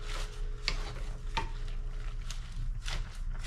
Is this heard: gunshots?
no